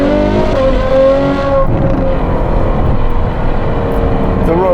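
A Novitec Ferrari 812 N-Largo S V12 roars loud and close throughout, its pitch dipping and then climbing again under steady road noise from inside the moving car.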